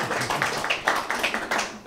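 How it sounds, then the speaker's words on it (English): Small audience clapping at a quilting gathering in Oregon, a light, sparse patter of individual claps at moderate-to-low level, fairly close and uneven in rhythm. "A round of applause, please."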